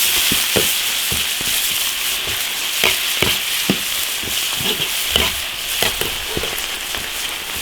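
Chili sauce and hotpot seasoning crackle as they are stir-fried in an iron wok, a loud steady sizzle broken by repeated scraping strokes of a spatula.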